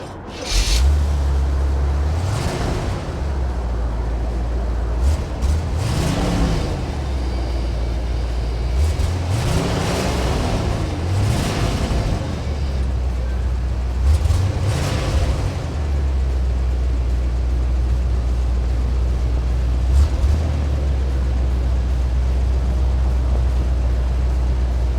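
A 1981 Chevrolet Corvette drives past or along at steady speed, its engine note rising and falling through several gear-change swells over a constant low rumble, loud and close with no talk.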